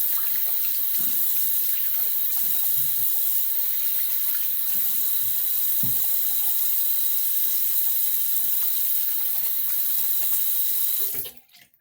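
Tap water runs steadily into a sink while a straight razor (Raven Kamisori) is rinsed, a constant close splashing hiss that cuts off abruptly near the end.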